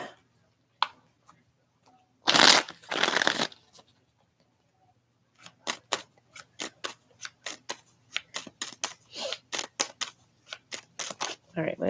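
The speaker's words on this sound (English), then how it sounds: "let's shuffle these all the way out" A deck of reading cards is riffled and shuffled close by, one long burst early on, then a fast series of short snapping riffles, with faint background talk.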